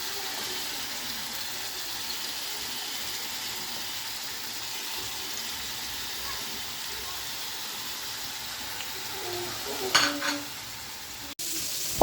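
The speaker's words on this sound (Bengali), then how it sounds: "ওই সাইডের চুলাটায় আমি মাছ ভেজে নিচ্ছি, আর এদিকে হচ্ছে যে আমি ফুলকপিটা কষিয়ে নিচ্ছি" Snakehead fish frying on one burner while cauliflower with onion, turmeric and chili is stir-fried on another, a faint, even background sizzle with a short clatter near the end.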